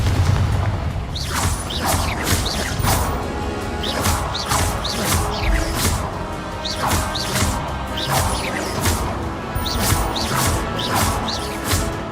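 Repeated fiery blasts and crashes from the Confringo spell in Hogwarts Legacy burst out in quick succession over a dense, busy battle din, loud and relentless throughout.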